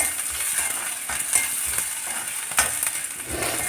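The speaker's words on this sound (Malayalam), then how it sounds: "ഇഞ്ചിയും വെളുത്തുള്ളിയും ചെറുതായി അരിഞ്ഞതൊന്ന് ചേർത്ത് കൊടുക്കാം കേട്ടോ ഒന്ന് മുരിഞ്ഞ് വരട്ടെ" Chopped ginger and garlic frying in sunflower oil in a hot pan, a steady loud sizzle broken by scraping stirs, with no talking.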